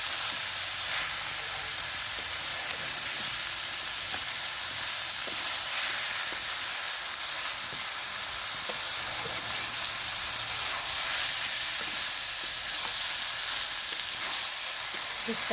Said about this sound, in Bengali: চিকেনগুলো বেশ ভাজা ভাজা হয়ে যাবে, সুন্দর লাগবে।